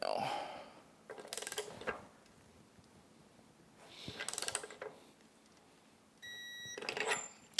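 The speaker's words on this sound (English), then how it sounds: "So now we have our torque wrench set to 25 foot-pounds. I'm going to get it on that 14mm head." Torque wrench set to 25 foot-pounds ratcheting onto a 14mm bolt head while rebuilding a MerCruiser Bravo 2 sterndrive lower unit, three separate bursts of quick clicking mixed with a beep and low room noise.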